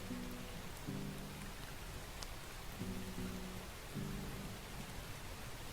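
Steady rain patters across the whole stretch inside a video game, a dense even hiss with a faint low rumble and some sustained tonal sounds rising and falling beneath it.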